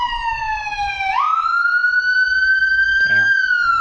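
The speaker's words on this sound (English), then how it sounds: "if you can hear that siren that's about to approach me anytime now" An ambulance siren wails loudly and up close, a steady rising and falling electronic tone that shifts pitch sharply partway through as it approaches, with a vehicle rumbling underneath.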